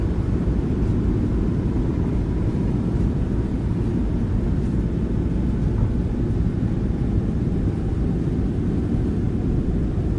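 Steady, loud roar of PMDG 737-700 thrust reversers in Microsoft Flight Simulator after touchdown, a dense low rumble holding evenly throughout with no pauses and no voices.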